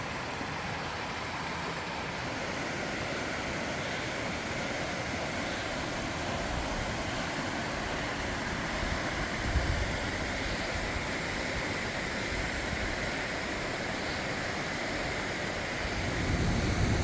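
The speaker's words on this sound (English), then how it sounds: "Here's a closer look at that little waterfall." A small waterfall at the source of Arroyo Mocho rushes in a steady, full broadband wash, with gusts of wind against the microphone briefly swelling the low rumble near the end.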